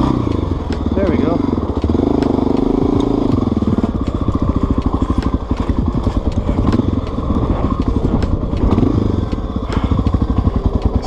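A dual sport motorcycle, an XR 600, bounces downhill over rough Death Valley terrain, its engine chugging loudly and rhythmically up close with clattering knocks, while a rider talks over it.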